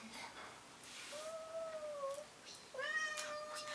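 A cat named Volcan gives a few drawn-out meows, two rising and falling calls separated by a short pause, fairly close in a quiet room.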